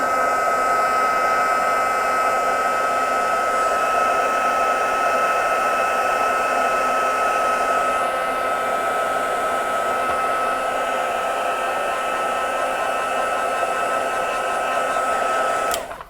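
A heat tool blows steadily and loudly to melt heat-and-stick embossing powder during a soft pastel chalk craft project, a constant close whir with a high tonal whine that runs without a break and cuts off at the end.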